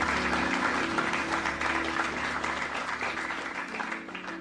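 Audience applause at a Hindi spoken-word poetry performance, a steady wash of clapping that holds throughout with a faint murmur underneath.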